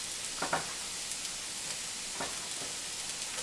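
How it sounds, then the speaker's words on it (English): Colored bell peppers sizzle and fry steadily in a pan for vegetable lo mein, a soft continuous hiss broken by a few light scrapes and clinks of stirring, with no talk. "I'm going to go ahead and add in all of our beautiful colored peppers"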